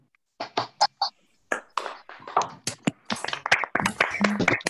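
Scattered clapping from participants unmuting on a video call after an online lecture, uneven bursts of claps mixed with cheering voices and chatter, close and slightly compressed.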